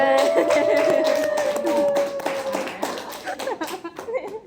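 A room of people claps together in a burst of applause, the hand claps ringing out under talk and chatter before trailing off into scattered voices.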